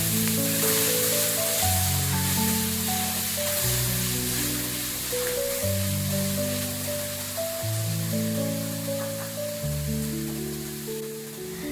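Vegetables sizzling in a hot pan, a steady hiss of frying that continues under background music.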